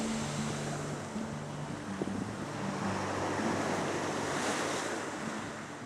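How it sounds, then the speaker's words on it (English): Gentle surf rolls in on a Catalina Island shore as a continuous, moderately loud wash of breaking water with some wind buffeting the microphone and no talking. "enjoy the gentle sound of that rolling surf coming in"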